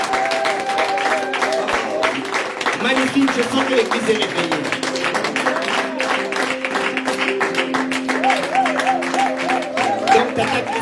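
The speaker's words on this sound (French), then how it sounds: "nous allons vraiment applaudir pour eux" A church congregation claps continuously under someone speaking in French, with sustained keyboard or organ tones running beneath the applause.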